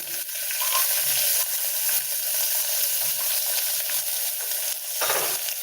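Onions fry in a clay pot of popping mustard seeds while greens and lentils are cooked, giving a steady, loud sizzle with faint stirring scrapes, close up and without talking.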